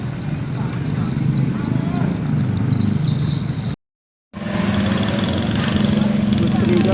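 A packed PO CP Marlin bus pulls away for Palembang during the post-holiday return rush, its engine a loud, steady low rumble with a brief silent gap midway, then rumbling on.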